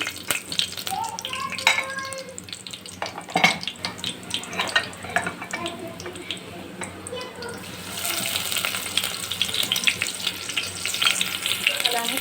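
Onions and potato paste fry in a pan for soya chunk pulao, giving a steady sizzle with scattered stirring clinks and scrapes. The frying sound grows louder and denser in the second half, close to the mic.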